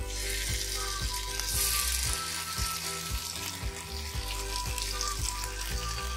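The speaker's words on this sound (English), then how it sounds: "Now on a medium flame, start roasting the tofu." Tofu shallow-frying in oil over a medium flame, giving a steady close hiss and sizzle with soft periodic clicks from a pan or spatula throughout, and no talking.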